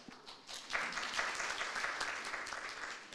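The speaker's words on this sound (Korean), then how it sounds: "여러분들 큰 박수로 환영해 주시면 고맙겠습니다" An audience claps in welcome for a speaker at a conference session, a soft, dense patter of applause heard from a distance that holds steady for several seconds.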